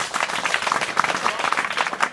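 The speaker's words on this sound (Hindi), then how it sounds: "मैंने ताली चलो बजाई।" Students in a school hall at Kishan Majdoor Inter College in Ora, Azamgarh, clap their hands together in a dense, continuous round of applause, with faint voices mixed in.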